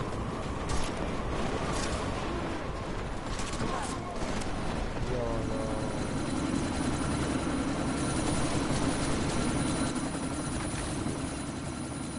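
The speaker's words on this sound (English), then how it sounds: "you need to disable that chopper" A helicopter in the video game Deus Ex: Mankind Divided drones continuously through a sandstorm amid dense broadband noise and scattered effects, with brief game voices over the din.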